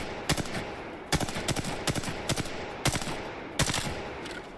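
R-301 rifle in the Apex Legends video game firing short, loud bursts of rapid automatic shots, about five or six clusters spread evenly with brief pauses between them, heard alone without talk.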